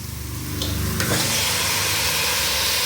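Tomatoes sautéing in a pan for Tamil-style tomato rice, a steady close sizzle and frying hiss running throughout with a brief stirring scrape near the start, no talking.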